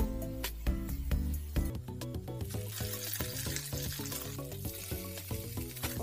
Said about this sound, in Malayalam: ഉഴുന്ന് പരിപ്പ് ഒന്ന് മൂത്ത് വരണം, അതുവരെ ഇളക്കി കൊടുക്കണം.